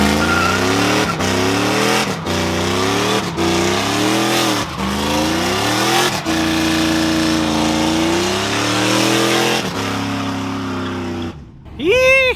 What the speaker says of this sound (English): Puro burnouts today, man.